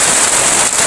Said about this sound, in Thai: ฝนเริ่มตกแล้ว